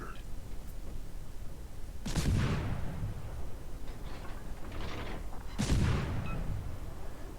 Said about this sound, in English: we're just glad right now that Kitakaze is busy shooting at the fort